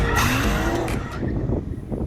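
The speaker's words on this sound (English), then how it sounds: "we do need to warm up the tyres, which means skids!" Rear-wheel-drive Mercedes SLR McLaren and Aston Martin DBS skid to warm their tyres, producing a loud, continuous tyre squeal over roaring engines that fades slightly toward the end, with no talking.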